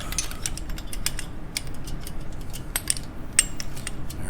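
Quick metallic clicks of a wrench ratcheting while fitting a Rinehart dual exhaust to a 2017 Harley-Davidson Ultra Classic 107, bursts of small ticks and clinks close up over a low background rumble.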